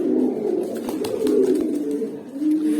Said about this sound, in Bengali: এই যে দেখেন কবুতরটা